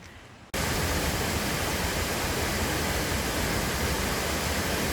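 Three-tier waterfall near Pucon, Chile, roaring as a steady, loud broadband rush of falling water close by, starting abruptly after a brief quieter moment and continuing unbroken without voices.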